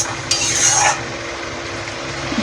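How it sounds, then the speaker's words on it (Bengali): Spice paste for doi katla, a Bengali yogurt fish curry, sautés and is stirred in a hot pan, giving a steady close sizzle with a brief louder scraping swish near the start. "এবার মশলাটাকে আমি ভালো করে কষে নেব 2-3 মিনিট"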